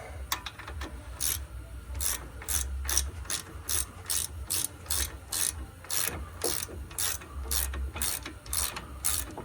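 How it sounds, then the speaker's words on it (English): A hand ratchet tightens brake caliper bolts on a 2011 GMC Terrain during a front brake job. Quick bursts of sharp pawl clicks repeat steadily throughout, close up, over a low background rumble. "So I'll get them ratcheted back in there. Just use my ratchet."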